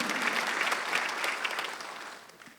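A congregation claps briefly at a Korean Sunday church service, a short burst of applause that fades toward the end.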